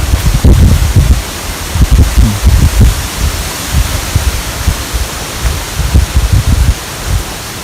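Wind blows steadily through the leaves of a quiet rural garden, making loud, continuous rustling with gusty surges and no voices.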